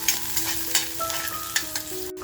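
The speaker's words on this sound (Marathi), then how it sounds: "कांदा आपल्याला आहे ना सोनेरी रंग येईपर्यंत छान असा परतवून घ्यायचा आहे." Chopped onions sautéing in a pan for a spicy village-style prawn masala, a steady sizzle broken by scraping stirs, with faint tonal hums running underneath, close and continuous.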